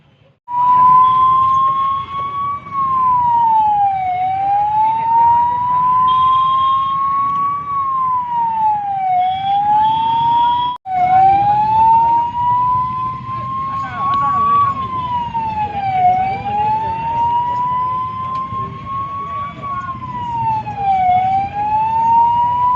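An ambulance siren wails, rising and falling in long sweeping cycles, loud and continuous, with traffic rumble underneath and a brief dropout midway.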